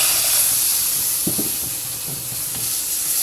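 Hot ghee with cardamom hissing and steaming steadily as a little milk is poured in, with a few faint stirring clinks partway through.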